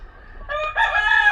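Rooster crowing up close, a loud drawn-out cock-a-doodle-doo that rises in strength partway through, from a backyard flock of chickens kept for daily care.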